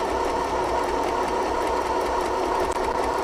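An FHSM-519 electric sewing machine runs continuously with a dense, even mechanical whirr and rapid needle chatter. It is close and fairly loud, without any speech.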